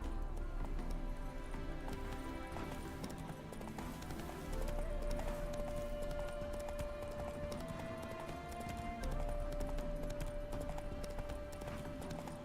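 In The Witcher 3, the horse Roach gallops with a steady clip-clop of hooves under continuous game music and ambience, moderately loud with no pauses.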